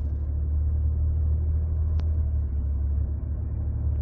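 A 2017-or-later Ford F-150 pulling away under light acceleration through its 10R80 ten-speed automatic, heard from inside the cab as a steady low engine and road drone with one brief sharp tick midway, no speech.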